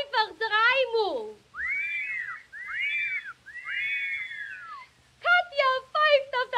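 Melodic whistling from a song, several rising and falling whistled phrases in a row, clear and close, set between short sung or spoken vocal bursts at the start and end.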